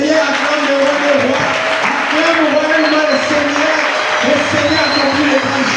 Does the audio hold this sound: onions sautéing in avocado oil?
no